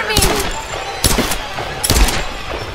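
Gunfire in the action game Tomb Raider: three spaced, sharp close-range shots roughly a second apart, each a punchy crack with brief ringing tail over a busy, noisy game background.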